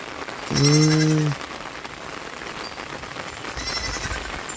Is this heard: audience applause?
no